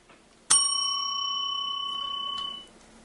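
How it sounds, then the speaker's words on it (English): A small hand bell, like a bicycle bell, is struck once and rings clearly with a bright metallic tone that lingers for about two seconds before fading, in a quiet room. "So I'm going to ring the bell."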